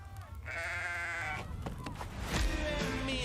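A goat bleats in the Goat Simulator 3 video game trailer, with drawn-out wavering cries in the foreground over music and game sounds, and a brief voice-like burst near the end.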